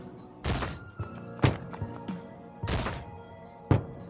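Bombs going off in the dungeon-crawler game Diehard Dungeon, heard as a series of dull, muffled thumps and thuds at irregular intervals, some heavier than others, with no voice over them.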